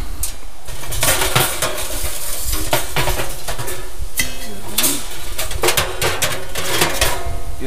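Metal stove pipes clank and scrape as they are handled and fitted together at an outdoor bushcraft tipi basecamp, with sharp knocks scattered over steady background noise.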